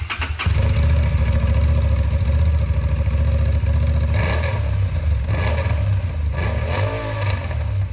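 A Honda CB750 Hornet motorcycle on its factory exhaust starts up and revs, a loud close engine roar with repeated throttle blips rising and falling over an idle.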